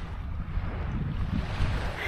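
Wooden boat running across ocean waves, a constant rushing wash of water and hull noise with wind buffeting the microphone, loud and steady throughout.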